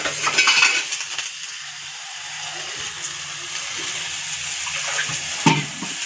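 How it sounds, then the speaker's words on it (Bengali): Water is poured into a cooking pot while making a banana-blossom dish on the stove, a short pour near the start that gives way to a soft, steady trickle and faint clinks of cookware. "সামান্য একটু জল দিয়ে দিলাম"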